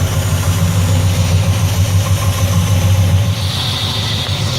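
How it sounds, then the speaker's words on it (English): A 1974 Chevy Nova's 7.4-liter 454 big-block V8 idles steadily, its deep low rumble constant and close throughout with a brief hiss near the end, and no one speaks. "So we got the engine running."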